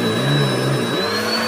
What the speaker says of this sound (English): This vacuum cleaner has a mind of its own.